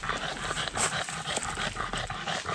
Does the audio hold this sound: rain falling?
no